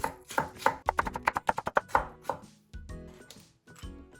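Rapid knife chopping of burdock strips on a wooden cutting board, a quick run of about a dozen sharp close taps that slows into a few lighter cuts and scraping.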